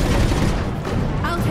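Rapid gunfire in a Mass Effect 3 trailer rattles continuously and loudly with dense repeated shots, while voices talk over it.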